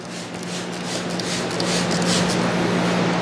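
Spray bottle misting soapy water onto a car door during a waterless wash, a steady close hissing spray running for a few seconds with no talk.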